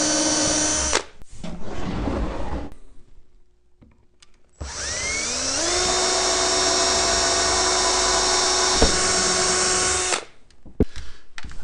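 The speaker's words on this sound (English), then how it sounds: "Pre-drill." A power drill pre-drilling a screw hole in a bee swarm trap whirs in short bursts, then runs steadily for several seconds at a high pitch before stopping, close by.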